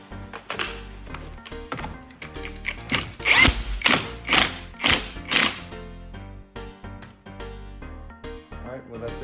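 A ratchet tightens the axle nut on a 2000 Honda Civic EX, giving a run of loud, rhythmic metallic clicks that fade out, with someone speaking over it.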